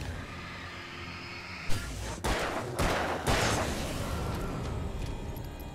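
Several loud gunshots from Alan Wake Remastered, a sharp blast followed by three more booming shots about half a second apart, each trailing into a rumbling reverberant tail over steady game ambience.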